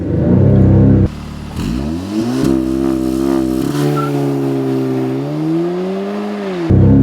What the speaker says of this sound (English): Accelerate and brake at the same time.